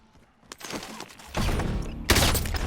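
Gunfire in the video game Warzone builds into dense, loud bursts of rapid shots with heavy low rumble, rising sharply near the end.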